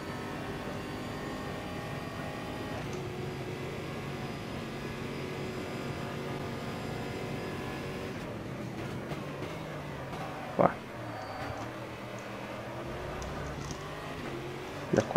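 Stock car engine in the Automobilista racing game at Interlagos, a steady droning roar with harmonic whine that shifts pitch around midway, a few sharp clicks later, no talk.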